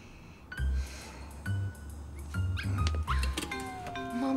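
A pet dog on a diet gives a run of short, close yips and whimpering whines with brief pauses between them in a Russian comedy scene.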